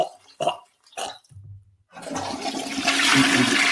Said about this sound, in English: Oh, I didn't mean double flush.